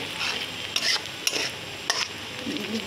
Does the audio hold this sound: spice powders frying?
yes